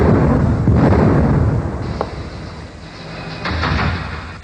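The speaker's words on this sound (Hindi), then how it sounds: "ये धमाके की आवाज?" An explosion in a TV serial, heard as a loud, rumbling boom that swells and fades, followed by a sharp crack and a second surge of rumble, with no voices.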